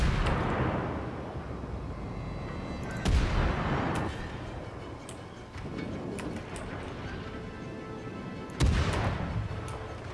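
Naval guns fire in the World of Warships video game, with two heavy booming salvos a few seconds apart over a constant low rumble of battle ambience.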